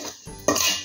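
A spoon scrapes and clinks against a pan as dry fruits and two spoons of organic jaggery are stirred and fried for a laddu: a quick, close metallic rattle under a second long.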